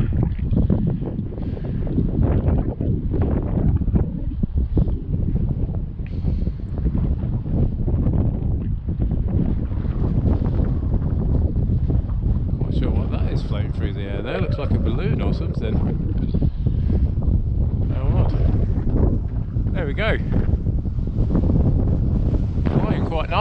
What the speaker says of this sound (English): Obviously it's very windy, so not ideal for it.